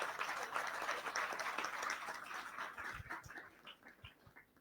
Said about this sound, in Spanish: Un voto de aplauso, por favor